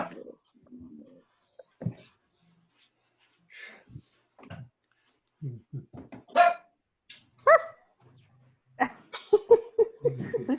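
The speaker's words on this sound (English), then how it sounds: "Who's got the dog?" A dog barks intermittently in the background during an online astronomy meeting, with sharp, fairly close barks in scattered bursts mixed with faint voices and other household noises.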